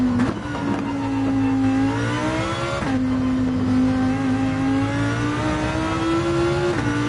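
A Lamborghini Gr.3 race car engine in Gran Turismo 7 holds a loud, steady, buzzing drone near the rev limit, with brief dips at gear shifts before climbing again.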